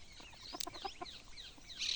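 Kadaknath chickens cluck softly in the distance, a few short calls over a quiet outdoor farm background with faint bird chirps.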